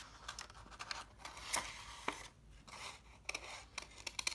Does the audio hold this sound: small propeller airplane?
no